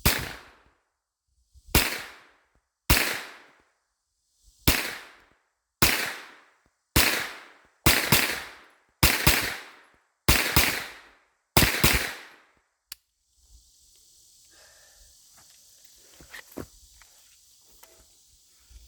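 A Kel-Tec Sub 2000 carbine with flip-up sights fires about ten loud, sharp outdoor shots, spaced roughly a second apart, each with a short echoing tail. The shooting then stops and gives way to quiet background noise.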